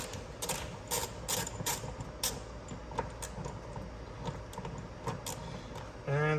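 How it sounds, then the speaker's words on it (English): Hand ratchet with socket backing out a T50 bolt from a BMW F22/F23 front seat belt anchor, a series of quick close clicking bursts with pauses between, a metallic clank near the end. "I'm gonna grab my ratchet and my socket."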